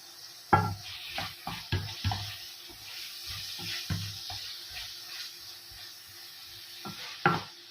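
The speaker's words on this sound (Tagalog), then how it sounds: "Lagyan na po natin yung ating kamatis para magisa po yung ating kamatis." Chopped tomatoes sauté and sizzle in a hot pan as a utensil stirs them, with scraping strokes and soft clatters over a continuous frying hiss.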